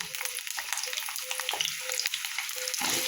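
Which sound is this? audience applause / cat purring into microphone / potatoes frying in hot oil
potatoes frying in hot oil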